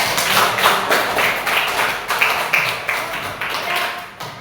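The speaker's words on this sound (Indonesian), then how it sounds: "Tepuk tangan untuk kita semua." A classroom of students claps together at the end of a mathematics lesson, with close, uneven claps in bursts and some voices mixed in.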